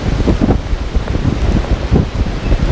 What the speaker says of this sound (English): This tent's been sitting here in this up to 30-mile-an-hour gust for probably an hour now